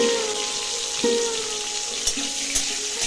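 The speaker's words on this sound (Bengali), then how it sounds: "তেলটা গরম হলে তার মধ্যে আমরা যে একটু মোটা মোটা করে করলা কেটে রেখেছিলাম সেগুলো নুন হলুদ মাখিয়ে ভেজে নেব।" Thick-cut pieces of bitter gourd coated in salt and turmeric fry in hot oil, giving a steady, dense sizzle that stays even throughout, with a couple of brief louder crackles near the end.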